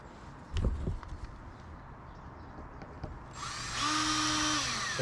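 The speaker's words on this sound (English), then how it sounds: "drive down a screw into some solid hardwood" A power drill drives a screw through a hanger strap into solid hardwood on a fence, whirring steadily for about two seconds at the end after a few light knocks and handling sounds.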